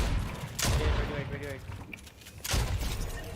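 Sniper shots ring out in Fortnite gameplay, two sharp cracks about two seconds apart, each with a rolling echo over a steady game soundscape.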